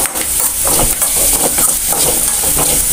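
Spring onion greens stirred with salt in a hot pan, a steady scraping stir over continuous soft sizzling, close and loud, with no talking.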